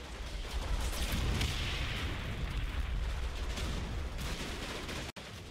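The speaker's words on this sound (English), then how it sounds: "As the barrage lifts on the TRP-1 block, a section from 4th Platoon move in." Artillery barrage in Combat Mission: Battle for Normandy, pounding a town block: a dense, continuous roar of blasts and rumbling detonations at steady loudness, ending with a brief cut near the end.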